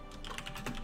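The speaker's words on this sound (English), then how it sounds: "What is with my typing today?" Quick bursts of keystrokes on a computer keyboard, a brief close flurry of clicks at moderate volume with no voices.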